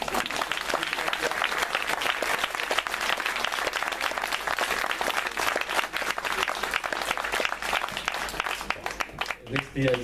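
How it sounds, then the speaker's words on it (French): Audience at a French-language conference breaks into sustained applause, dense clapping at steady volume for about ten seconds, thinning near the end as a voice begins to speak. "Vous avez le droit d'applaudir"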